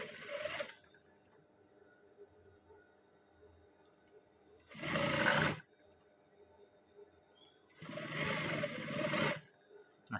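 A domestic sewing machine stitching a hem on long trousers runs in three separate bursts of fast whirring, each lasting about a second, with quiet pauses between them and no voices.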